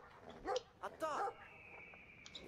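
Short barks and yips from a dog in Brothers: A Tale of Two Sons ring out in a quick cluster of two or three, close and fairly loud above quiet game ambience.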